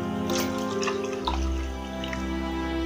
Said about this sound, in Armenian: հիմա նորից ջուր լցնենք